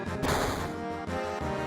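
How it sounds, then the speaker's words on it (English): Rapid bursts of automatic gunfire from above in the video game Final Fantasy VII, a loud, dense volley of repeated shots over a steady pulsing backdrop, with no voices. "Gunfire."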